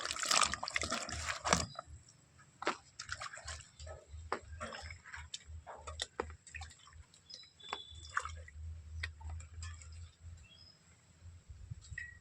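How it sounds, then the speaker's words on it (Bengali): Pointed gourd (potol) being rubbed and washed by hand in a bowl of water, with soft splashes, drips and irregular sloshing bursts, louder at the start then quieter and sparse. "ভালো করে চটকিয়ে ধুয়ে নিতে হবে।"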